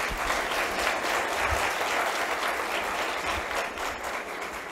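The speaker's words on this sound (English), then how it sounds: "Please applaud us." Sustained audience applause fills a hall at a law conference on Caribbean constitutional reform, a dense, steady wash of many hands clapping at moderate level throughout, easing slightly toward the end with no voices over it.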